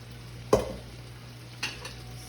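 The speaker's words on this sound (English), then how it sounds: "Stir this around." Cabbage cooking down in a pot for smothered cabbage, two distinct scraping stirs over a quiet, low simmering hiss, with no talking.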